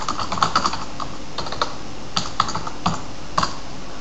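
Someone types a blog post on a computer keyboard: close, crisp keystrokes in an uneven rhythm with brief pauses between bursts.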